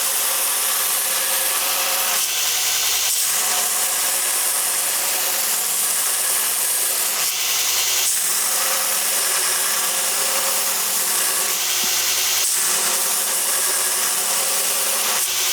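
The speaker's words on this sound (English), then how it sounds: "But being that I forged both sides flat, I have to grind this way." A steady, loud abrasive grinding rasps on without a break as a forged hammer head is ground to a bevel, with the tone shifting slightly as pressure changes.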